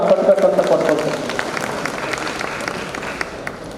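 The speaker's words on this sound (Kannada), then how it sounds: "ಎಲ್ಲರೂ ಚಪ್ಪಾಳೆಯನ್ನು ಕೊಟ್ಟಬೇಕಂತ ಕೊಡ್ಕೊಳ್ತೀನಿ." An audience at a state-level teachers' programme held at a school applauds in a broad wash of clapping that starts fuller and gradually thins, with a voice audible over it near the start.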